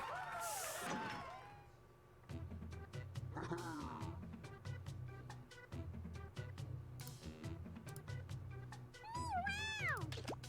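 Synthetic cat meows from a game, several sweeping cries over a steady electronic backing with clicks and blips, quiet overall.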